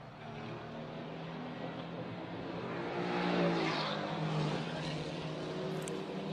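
A Mercedes GT race car engine on the Macau street circuit, a distant steady roar that swells as the car passes and then fades slightly, with no voices over it.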